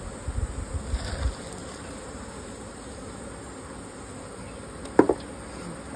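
Saskatraz honey bee colony at an open hive, a steady low buzzing hum from the mass of bees, with a couple of brief louder knocks near the start and again toward the end.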